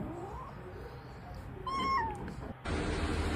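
A cat gives one short, clear meow, rising then falling, against quiet room noise with no talking.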